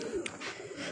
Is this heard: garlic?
no